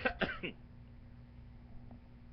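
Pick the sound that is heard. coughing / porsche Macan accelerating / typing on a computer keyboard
coughing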